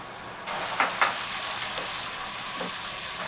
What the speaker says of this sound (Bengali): পেঁপেটাকেও আলুটার সাথে 2-3 মিনিট মতো আমি কষিয়ে নিব।